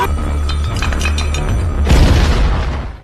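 A loud explosion from a robbery scene in a film: a sustained deep booming rumble with metallic clinks, swelling into a broader blast around the two-second mark before fading out.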